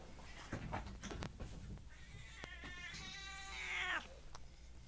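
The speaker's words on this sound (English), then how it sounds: "This is an old cat." A 17-year-old cat gives a long, drawn-out rising and falling meow, faint and close, after a few brief rustles and clicks, set over a low steady background hum.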